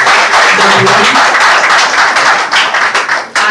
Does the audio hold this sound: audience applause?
yes